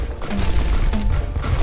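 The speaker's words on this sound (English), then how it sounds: "Fireworks!" Fireworks burst in Risk of Rain on hardcore mode, a dense crackling volley of loud pops over a rumbling game soundscape, with no speech.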